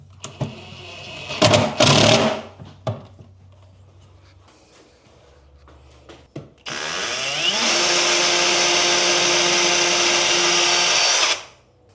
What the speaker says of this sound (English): Now we can screw them in.